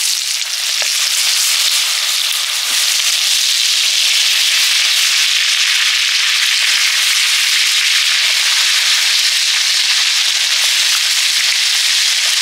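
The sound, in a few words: eggplant frying in hot oil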